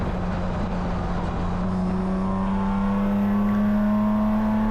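A BMW E46 Spec race car engine drones steadily and loudly from inside the car at Willow Springs, its pitch climbing gradually after a short shift, with constant road and wind roar underneath.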